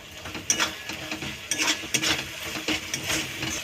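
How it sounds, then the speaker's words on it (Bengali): Pointed gourd and prawn masala with chili powder being sautéed in a pan: a soft sizzle under repeated scraping strokes of a spatula against metal, close by, coming in uneven bursts with no talking. "লঙ্কার গুঁড়ো দিয়ে আরেকটু কষিয়ে নেব"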